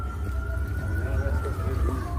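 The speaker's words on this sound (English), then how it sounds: "The ambulance is coming somewhere here." Ambulance siren sounding somewhere nearby on a city street, a steady wailing tone that holds throughout over traffic rumble and background noise, moderately loud but not right up close.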